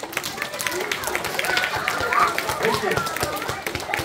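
A group of children claps in scattered, uneven bursts at a Milli Görüş gathering in Colmar, the applause sitting close and lively under an adult's voice and the children's chatter.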